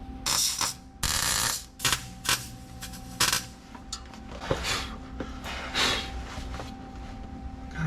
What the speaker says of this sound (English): I'm gonna drag the welder over here and see if we can't just a couple places just to hold it